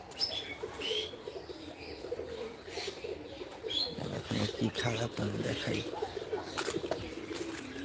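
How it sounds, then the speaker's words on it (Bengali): Pet pigeons coo softly in the background beneath a nearby voice, low throaty calls mixed with occasional rustling and a faint flutter. "এই যে আমার কবুতরগুলো"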